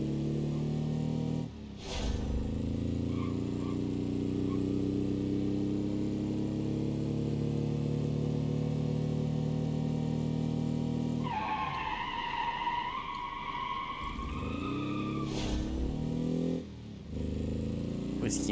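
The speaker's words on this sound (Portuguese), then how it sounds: "Fusquinha se puxando." A VW Beetle (Fusca) in BeamNG.drive strains its engine in a steady, droning labor with shifting pitch, joined midway by higher whining tones and occasional short bursts.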